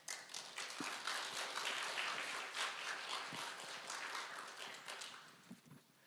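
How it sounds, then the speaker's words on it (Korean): A church congregation at a Korean Sunday service claps loudly to welcome a missionary coming up to speak, a sustained, dense round of applause that swells, holds, then thins out with a few scattered claps at the end. "여러분들이 큰 박수로 환영해"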